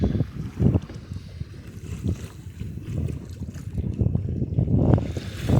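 A schooner under sail on open sea off Cape Ann, its hull swashing through water in a steady low rumble with gusts of wind buffeting the microphone, no voices.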